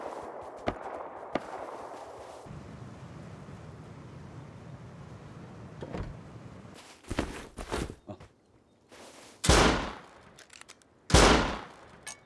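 A few loud, close gunshots ring out in the survival game Rust as a player fires the last bullets, sparse separate bangs after a quieter stretch of rustling and footsteps.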